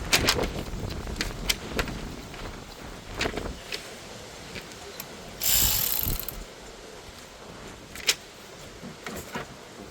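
A hand ratchet clicks in short bursts while tightening a spark plug on a 2.0L Hyundai Elantra engine, the quick pawl clicks close and fairly loud, with brief pauses between strokes.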